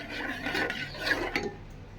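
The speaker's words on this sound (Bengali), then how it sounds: "এটা সেরেলাক রান্না করছি" A spoon scrapes and stirs Cerelac cooking in a pot, soft rasping and rubbing strokes close by at low volume.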